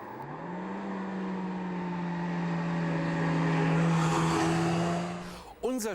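A VW Corrado G60, a fast front-wheel-drive coupe, drives hard past at close range, its engine note holding a strong steady pitch that swells and then fades, with a brief sharp noise at the end.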